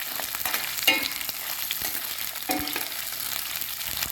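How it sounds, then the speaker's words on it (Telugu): Prawns frying lightly in a pan, a continuous close hiss of sizzling oil with occasional sharper pops and a few stirring scrapes, no voices. "వేగుతున్నాయి, కొంచెం లైట్గా అలా వేగుతూ ఉంటే బాగుంటుంది."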